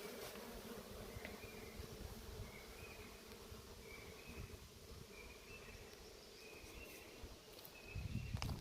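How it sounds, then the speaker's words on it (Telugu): A steady honeybee buzz hums in the background near water among hills, with faint higher tones drifting in and out and a low thump near the end. "తేనెటీగలు"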